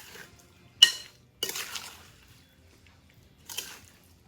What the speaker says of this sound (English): We're going to stir all these ingredients together until they're well combined.